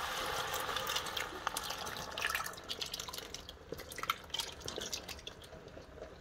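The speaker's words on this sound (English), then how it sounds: "Now we're gonna put our coconut cream." Coconut cream poured over cooked yams in a pot, a liquid trickle and dripping splashes that start steady and break into irregular drops, close and moderately quiet, with no talking.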